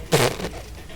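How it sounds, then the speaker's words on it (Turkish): A short, buzzy fart noise from a Serious Sam 3 gaming session, one quick burst of about a tenth of a second, fairly quiet and fading into low background noise. "Bakın arkadaşlar osuruk sesi böyle çıkarılıyor."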